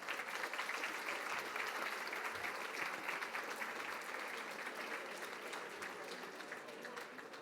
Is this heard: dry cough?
no